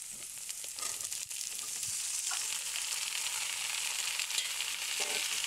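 Diced papaya fries with cumin seeds in a hot pan, a steady bright sizzle that runs throughout, with soft scraping stirs underneath, close and moderately loud.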